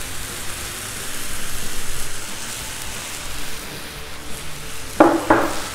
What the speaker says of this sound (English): Let's put a little bit of oil down.